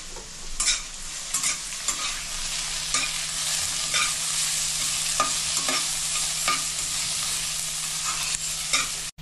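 Chopped onions frying in hot oil in a pan, a continuous sizzle broken by regular scraping knocks of a spatula stirring them, close and fairly loud with no talking.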